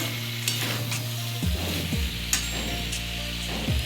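Rohu fish curry ingredients with potato, aubergine and greens stems are stir-fried in a pan. Close sizzling runs under a low steady hum, with the spatula scraping and knocking at irregular moments.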